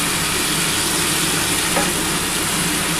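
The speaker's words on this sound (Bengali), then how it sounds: "আমি ঢাকাটা দিয়ে ভাজছি" Potatoes fry for aloo posto in a covered pan, a steady, loud, even sizzle that holds without a break, with no talking.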